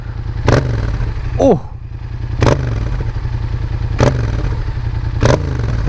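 A Yamaha MT-07 motorcycle fitted with a new aftermarket exhaust idles with a steady low rumble, broken by four sharp, loud revs at regular intervals; a voice briefly exclaims once.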